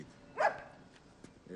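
A single short dog bark, fairly faint and a bit distant, set against quiet background noise.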